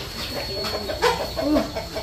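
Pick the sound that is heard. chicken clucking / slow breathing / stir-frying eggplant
chicken clucking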